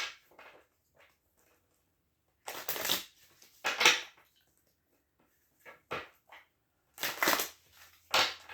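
Tarot cards are riffled and shuffled by hand in several short bursts separated by quiet pauses, with papery flutters and soft taps close by.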